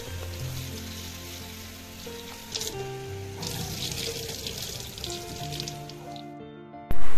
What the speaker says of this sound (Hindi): पहले हम लोग दाल को 2 से 3 बार अच्छे से पानी देके धो लेंगे ताकि उसमें जो डस्ट रहता है वो निकल जाए।